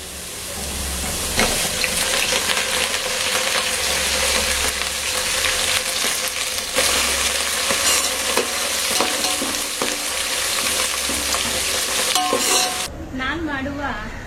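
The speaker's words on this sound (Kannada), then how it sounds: "ಈಗ ಇದ್ರ ಜೊತೆಗೆ ಸ್ವಲ್ಪ 1 ಹಿಡಿಯಷ್ಟು ಮೆಂತ್ಯ ಸೊಪ್ಪನ್ನ ಹಾಕ್ತಾ ಇದ್ದೀನಿ ಒಗ್ಗರಣೆಗೆ" A handful of fenugreek leaves hit hot oil for tempering, producing a loud, continuous close-up sizzle with stirring scrapes that ends abruptly near the finish.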